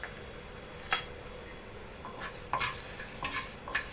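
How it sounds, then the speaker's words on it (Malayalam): Half a spoon of fenugreek seeds roasts dry in a pan with a faint background hiss, punctuated by several sharp scraping stirs of a spoon against the metal, close by and without speech. "1/2 സ്പൂൺ ഉലുവ വറുത്തെടുക്കാം."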